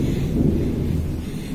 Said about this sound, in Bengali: এত জোর জোর বাজ পড়ছে।